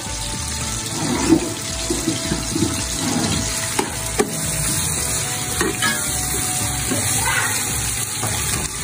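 Steady sizzling of onions frying in ghee for chicken tikka biryani, with occasional stirring clinks and scrapes, no talking.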